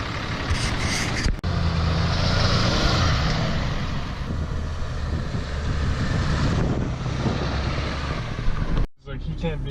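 A Cummins diesel truck engine drives down a street, a steady loud rumble running throughout with a brief dip early on and a sharp cut near the end, talk mixed in over the engine.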